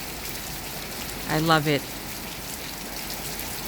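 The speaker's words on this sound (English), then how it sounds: "Okay, I hope you can see the rain now." Steady rain falls outside a house, a continuous broadband patter heard from indoors, with a brief spoken voice partway through.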